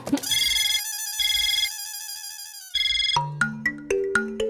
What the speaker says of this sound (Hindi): हाँ बोलो पोपटलाल, इतनी रात गए क्यों फोन किया?